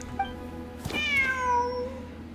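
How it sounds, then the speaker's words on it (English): A cat in the video game Genshin Impact lets out one clear, close meow that rises and then slides down, with faint ambient game sound around it. "The cat!"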